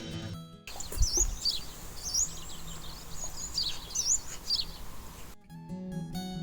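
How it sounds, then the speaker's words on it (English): A yellow-browed warbler gives repeated thin, high call notes during an autumn birding outing in Kerry, several distinct chirps spaced across a soft outdoor background, moderately near and without talk. "The day started off on a high with a calling yellow-browed warbler"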